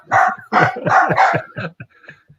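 A dog barks in a quick run of about five loud, close barks that taper into softer yips and whimpers, with no talk over it.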